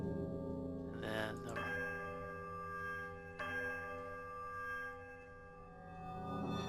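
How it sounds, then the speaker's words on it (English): Bells toll in the fantasy video game Pillars of Eternity, a few resonant, ringing strikes with long sustained hums fading between them, fairly quiet. "a sudden dissonant tolls sounds from the bells, so loud and piercing that you're compelled to cover your ears"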